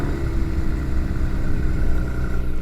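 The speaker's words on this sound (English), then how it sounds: "So this right now is just plain idling cold start." A Genesis G70 on its stock exhaust idles after a cold start, a steady, loud, continuous low rumble with no voices over it.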